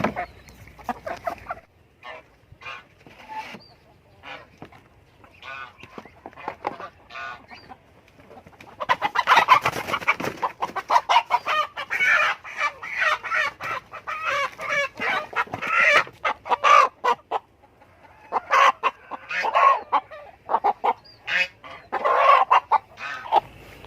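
Native chickens cluck and squawk close by in busy, uneven bursts, with a white rooster kept for breeding among the hens, the calls growing louder and denser partway through without any talking.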